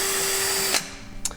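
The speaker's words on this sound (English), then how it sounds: "this is an air hammer. It's a pneumatic chisel, basically, hammer type thing." Pneumatic air hammer chiseling through the rusty floor pan of a 1972 Chevy Nova, a loud sustained buzzing rattle that cuts off abruptly, followed by a brief hiss of air.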